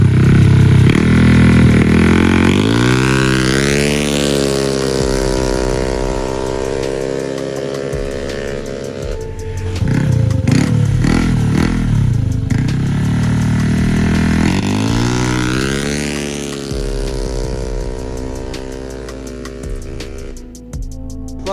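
A freshly tuned motorcycle revs loud and close, its engine pitch sweeping up and down through repeated acceleration runs and easing off between them, with no talk over it.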